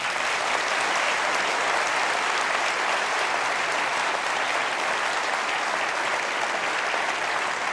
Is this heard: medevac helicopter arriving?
no